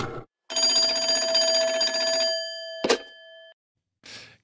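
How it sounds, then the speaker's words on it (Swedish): Radio show's telephone bell jingle on a Swedish football call-in program, a loud sustained ringing tone lasting a couple of seconds, followed by a sharp chime and a brief trailing ring. "Glömmer alltid lilla nya telefonbumpen."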